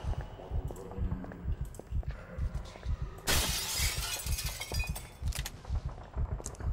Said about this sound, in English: I like how I can just hit a glass with a sword with a stupid poke motion, and it just shatters the whole thing